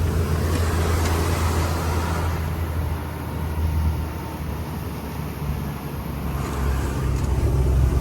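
A truck's engine and tyres roar steadily inside the cab as it crawls over black ice on the high, snowbound Baralacha La mountain road, a loud continuous rumble without any talk.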